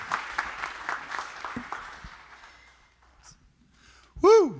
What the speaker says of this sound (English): Great, thank you. Great questions. Thank you, guys. Appreciate you all.